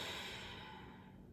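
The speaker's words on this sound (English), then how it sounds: "Take a deep breath. Inhale. And exhale." A slow, deep breath drawn in and let out during a mat-based core workout, soft and close with a gentle airy hiss that fades toward the end, no talking.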